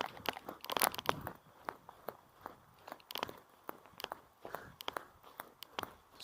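Running footsteps picked up by a small action camera: a faint, even train of soft crunchy impacts landing about twice a second, with no talking.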